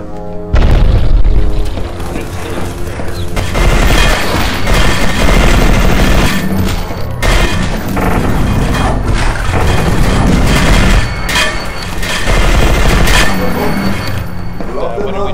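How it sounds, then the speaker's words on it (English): Shotgun blasts and rapid gunfire in the co-op shooter E.Y.E. Divine Cybermancy, loud close booms and chattering bursts repeating throughout, with dense layered combat noise. "Hitting us with a shotgun."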